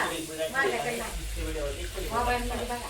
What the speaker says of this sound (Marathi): आता पुऱ्या आम्ही तळतोय